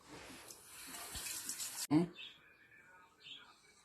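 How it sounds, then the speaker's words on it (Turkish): Water runs from a kitchen tap while hands are washed during pastry preparation, a steady hiss that cuts off abruptly partway, with someone talking throughout. "önce bir elimi yıkayayım"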